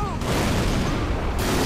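A deep, rumbling plasma grenade explosion roars in Halo: Reach, broad and loud, fading into a dense crackling wash of gunfire-like noise.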